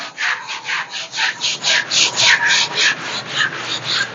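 A primed surface is hand-sanded with 120-grit sandpaper in quick, even back-and-forth strokes, a close, loud, rhythmic scratchy rasp repeating about four times a second.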